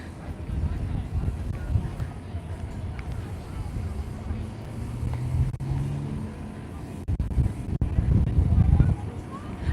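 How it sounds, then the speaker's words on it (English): Strong wind buffets the microphone at a beach in Alcudia, Mallorca, a steady low rumble of gusts swelling louder toward the end, with some talk mixed in. "I can't believe this wind"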